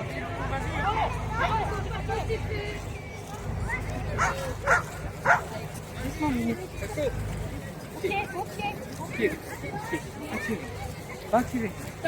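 Several dogs bark and yip at an outdoor gathering of people and their dogs. The barks come in scattered bursts over a murmur of crowd chatter and nearby talking.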